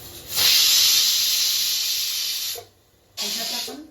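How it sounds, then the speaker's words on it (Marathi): A pressure cooker on the stove for chicken dum biryani lets out a loud, steady steam whistle-hiss that runs for about two seconds, cuts off briefly, then starts again, with no talking. "आता झाकण लावून 2 शिट्ट्या घेणार आहे."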